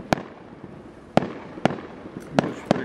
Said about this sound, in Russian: Вот так и завершается сегодняшний день. Фейерверком.